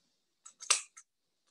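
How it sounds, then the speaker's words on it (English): Small scissors snip through chunky yarn while trimming a pom pom for a beanie, giving a few quick close cuts in a short burst with one louder main snip, and no talk. "That's why I recommend doing these small scissors, because it ensures that I just use the little bits."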